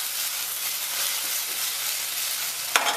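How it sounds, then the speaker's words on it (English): Potatoes fry and brown in a hot pan, giving a steady broadband sizzle that holds level throughout, with a brief sharper clatter near the end. "Lower the heat on the potatoes a little bit, but they're browning nice."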